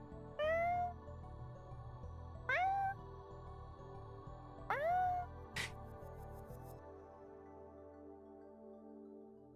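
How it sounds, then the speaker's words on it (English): A cat meows three times in clear, evenly spaced rising-falling calls, close and fairly quiet, followed by a sharp click and a low steady hum. "Literally, her meows are like this."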